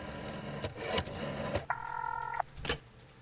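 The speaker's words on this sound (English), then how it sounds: "The phone is fixed. Time to call for a taxi." In The Darkside Detective video game, a telephone is dialed to call a taxi: several short dialing clicks and beeps, then a sustained tonal ring-like tone and a final click, close and fairly quiet, with no talking.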